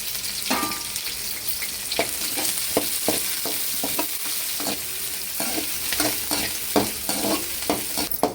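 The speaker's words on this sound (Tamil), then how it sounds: "இப்போ கட் பண்ணி வச்சுக்கிற வெங்காயம் சேர்த்துக்கலாம் அப்படியே பச்சை மிளகா கருவேப்பிலை சேர்த்துக்கலாம்" Chopped onion, green chili and curry leaves fry in a hot pan, giving a constant close sizzle broken by repeated scraping stirs of a spoon against the pan.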